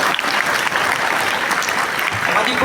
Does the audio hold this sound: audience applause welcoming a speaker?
yes